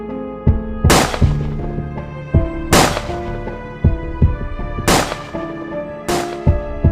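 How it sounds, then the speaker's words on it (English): Hundreds of pagers exploding across Lebanon, heard as four loud, sharp bursts spaced a little over a second apart over a dense, busy background with steady tones. "Hundreds of pagers explode all over Lebanon."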